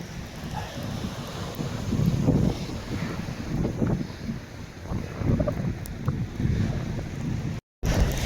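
Piercing winter wind by a stormy Black Sea beach at Vityazevo, steady gusty roar buffeting the microphone with surf churning underneath, fairly loud and continuous with no talk.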